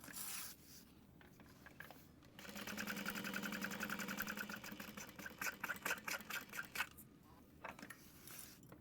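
A sewing machine runs in a steady whirring stretch while stitching a medium-sized fabric tote bag, followed by shorter stop-and-start bursts of stitching, close and quiet with clicks and handling between runs.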